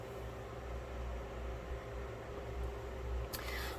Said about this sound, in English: I'm sorry if you hear the fan in the background.